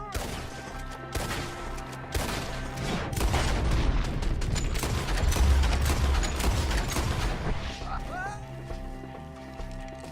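Gunfire erupts in Red Dead Redemption II during a shootout against enemies up in the trees, with rapid repeated shots and a dense rumbling barrage under shouted voices and commotion.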